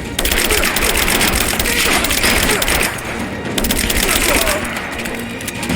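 Dense, continuous gunfire and explosions fill a combat firefight in the video game Rise of the Tomb Raider, loud and sustained throughout with rapid overlapping shots and no talk.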